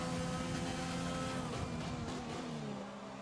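F1 race cars from a Brazilian GP racing video game roar along the straight with a steady, droning engine whine that dips slightly toward the end.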